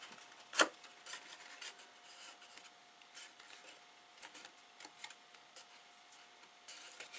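Glued paper flaps of a handmade exploding gift box are burnished by hand, giving quiet, soft rubbing strokes in short repeated bursts, with one sharp tap near the start and no talking.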